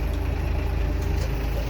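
Farm tractor engine running while cattle are fed, a continuous low, steady rumble, close and unchanging over the short stretch, with no talking.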